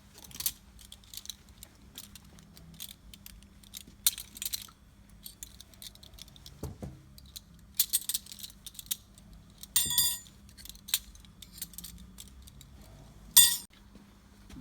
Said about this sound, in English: we are going to polish the cutleries now, starting off with the dessert spoons first